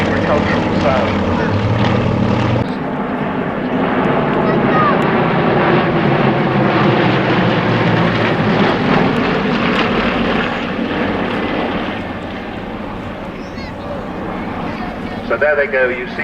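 A large propeller aircraft with a cruciform tail flies a display at the 2013 Cosford airshow, its loud droning engines roaring steadily past and fading somewhat toward the end, with a commentator talking over it.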